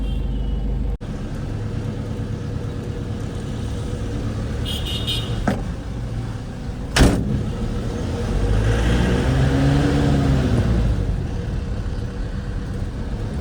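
A car pulls out of a parking area with a steady low engine rumble and road noise, a brief sharp bump or click partway through, and the engine swelling slightly as it gets moving.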